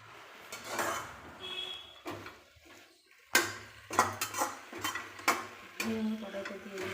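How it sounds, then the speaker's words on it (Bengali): Ingredients being stirred in a wok (kadai) on a gas stove: a series of close scraping knocks and clinks of a spatula against metal, irregular and moderately loud, with no talking. "এগুলোকে একটু নেড়ে নেবো।"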